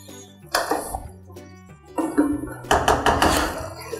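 A metal utensil clinks and knocks against a cooking pot while mutton stew is stirred, several short bright clatters in bursts with brief pauses between.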